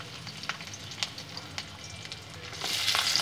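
Chopped garlic and ginger fry in oil for a paneer and capsicum dish, a soft steady sizzle with scattered clicks of a stirring utensil that grows louder and hisses brighter near the end, with no talk.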